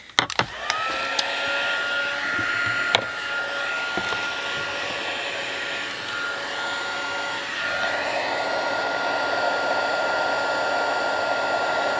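A heat tool blows steadily and close for the full stretch, melting embossing powder on a winter birthday card from behind, with a few sharp clicks at the start.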